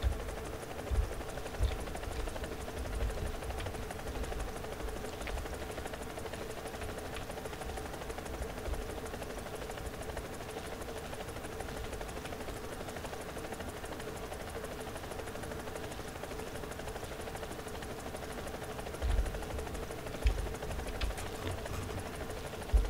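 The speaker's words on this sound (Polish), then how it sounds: "użyjmy sobie śmigłowiec i zobaczymy" A helicopter flying in the War Thunder video game, a steady continuous engine and rotor drone running at an even level throughout without talk.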